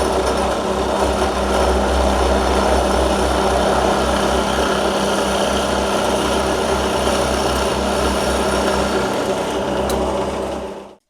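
A power drill boring a 13 mm hole in wood, a loud, close, steady high-pitched whine running without a break for about eleven seconds before cutting off at the end.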